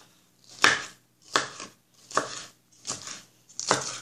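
Five evenly spaced knife chops slice through a red pepper on a cutting board, each one a crisp, close impact and clearly separated from the next.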